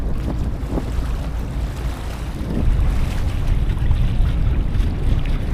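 A tourist launch cruises the Matla river through the Sundarbans, its engine a steady low rumble blended with water wash and wind buffeting the microphone, growing slightly louder midway with no talk.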